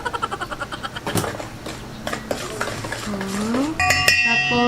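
Milo is mixed in a cup for a dalgona drink, with rhythmic spoon-against-container clinks and scrapes, then sharper metallic taps and a brief ringing tone near the end, no speech.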